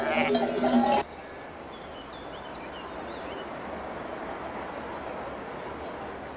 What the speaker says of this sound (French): le troupeau de 1700 moutons traverse le plateau du Trièves jusqu'à la petite ville de Cor.